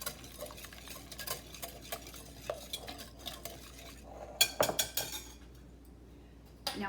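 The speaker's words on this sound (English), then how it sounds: "we'll give this a nice whisk so everything is blended together" Ingredients being whisked together in a bowl for homemade manicotti, the whisk clinking and scraping steadily against the bowl in quick rapid strokes, with some sharper clinks near the end.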